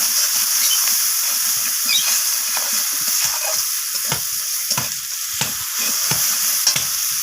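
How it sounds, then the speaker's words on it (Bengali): Spices for a spicy fish curry with salt, green chillies and coriander leaves sizzling in a hot pan, with a constant loud frying hiss and repeated scraping strokes of a spatula stirring close by. "সমস্ত কিছু মশলা এইভাবে নাড়াচাড়া করে আমি একটু কষিয়ে নিচ্ছি"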